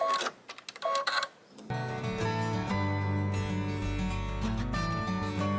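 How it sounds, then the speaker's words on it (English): An embroidery machine stitches a basting line in green thread on a hooped zipper pouch project. After a few quiet clicks, a steady, droning mechanical whir with a tonal hum starts and continues close up to the end. "The last step for this part of the project on your machine is to stitch the basting line."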